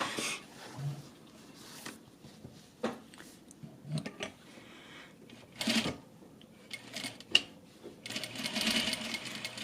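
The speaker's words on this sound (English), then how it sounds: "I'm going to put it under my sewing machine, and I'm going to stitch all the way down" A sewing machine stitches an exposed zipper into a garment in faint, short, intermittent runs, ending with a longer burst of stitching.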